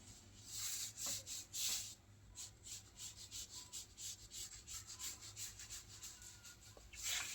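A marker is drawn along a straight line on pattern paper for a princess-cut blouse, giving a rapid series of close, soft scratching strokes in an even rhythm with brief pauses.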